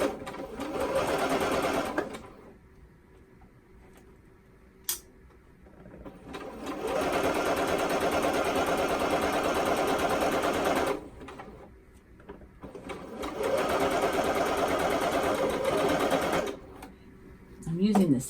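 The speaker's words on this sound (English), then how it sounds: "I'm just going to go ahead and sew these seams 3/8 of an inch seam allowance" Sewing machine running a narrow zigzag stitch along stretchy T-shirt seams, three long steady bursts of rapid mechanical whirring separated by quiet pauses with a small click between.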